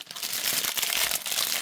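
Plastic wrap being peeled off water purifier filters during a filter change, a loud close crinkling and crackling of film in quick irregular bursts.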